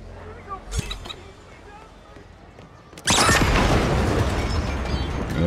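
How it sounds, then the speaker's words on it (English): A moped explodes in the video game Hitman 3, a sudden loud boom about halfway through that trails into a sustained crackling roar after a quieter stretch of small game sounds. "He's killed with the explosion from the moped for an accident kill"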